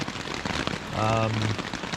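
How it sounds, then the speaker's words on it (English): Heavy rain pours onto a backpacking tent at night in the Allegheny National Forest near Minister Creek, a dense, continuous patter close overhead with a brief louder swell partway through. "I get to test out this tent really good in the rain."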